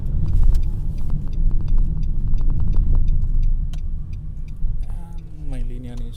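A 2014 Nissan Micra Active XV engine rumbles steadily up close as the car drives a turn in second gear, with faint ticking and a voice speaking briefly near the end.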